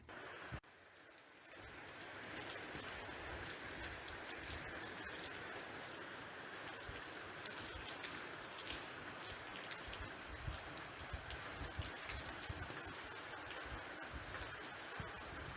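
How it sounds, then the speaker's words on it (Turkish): Heavy rain shower pours steadily over the city of Şanlıurfa, a dense continuous hiss of rainfall on surfaces that holds evenly throughout after a brief quieter start. "Sağnak yağış Şanlıurfa'nın birçok semtinden görüntülendi."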